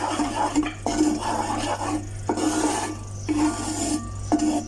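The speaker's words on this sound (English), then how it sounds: "Give it a whisk, stir." Mysore pak mixture of flour being whisked and stirred in a pan, a steady rasping, scraping rhythm of repeated strokes against the metal, close and fairly loud over a constant low hum.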